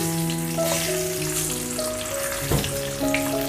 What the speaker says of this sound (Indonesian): Untuk langkah awalnya, saya akan mulai menggoreng bahan untuk bumbu-bumbunya ya. Saya masukkan dulu bawang putihnya.